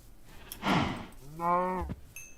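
Cows mooing in a video game after escaping their pen: two loud, drawn-out moos in quick succession, clear and close, with no talk over them.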